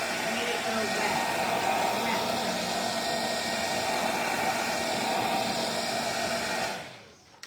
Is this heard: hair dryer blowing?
yes